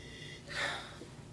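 A single close, breathy nasal sniff of a glass of inexpensive wine, rising and fading within a moment against soft room noise.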